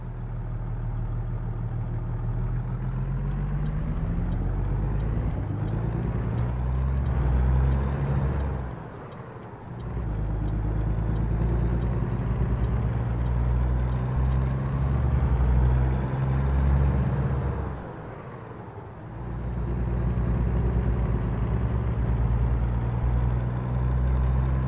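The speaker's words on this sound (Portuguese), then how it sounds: "Um caminhão andando para trás." A Kenworth T680 mid roof sleeper truck reverses in American Truck Simulator: a steady low diesel drone that dips twice, with faint rhythmic ticking above it and no talk.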